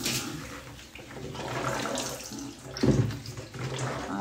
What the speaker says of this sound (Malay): Bilas dengan air bersih 3 kali. Bagi penuh lah. Bagi penuh tank ni